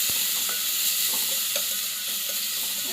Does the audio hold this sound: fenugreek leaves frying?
yes